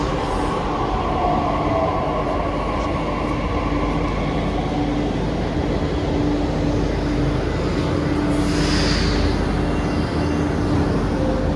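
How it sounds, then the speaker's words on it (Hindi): A Delhi Metro train runs with a loud, constant rumble and roar heard from inside or close by, with steady wheel and motor noise and a brief high whine toward the end. "मेट्रो आती है"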